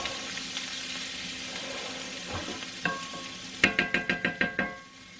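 Onions cook in a frying pan in a home kitchen, giving a steady soft sizzle throughout, then a quick series of about seven sharp scraping or tapping strokes near the end as they are stirred.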